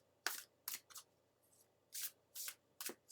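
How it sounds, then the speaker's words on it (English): An oracle card is pulled from a deck in a quiet room: a sequence of short, crisp papery slides and snaps, about six distinct bursts spaced irregularly, close and clear with no talking. "Let's pull a card for you."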